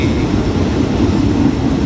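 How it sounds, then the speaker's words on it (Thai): Train 258 Nam Tok–Thonburi arriving at Nakhon Pathom station, a loud continuous low rumble of rolling cars heard up close, with no talking. "ขบวนที่ 258 นะครับ ก็มาถึงที่สถานีนครปฐมแล้วนะครับ"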